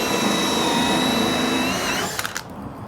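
A power drill with a hole cutter: a loud, steady power-tool whir with a grinding hiss runs continuously, then cuts off near the end, leaving a few faint clicks.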